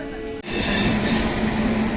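An MMTS suburban train runs on the Raichur to Secunderabad route, a loud, steady rumble and rush of wheels on rail heard from inside the coach, with a faint whining tone and a sudden jump in level early on.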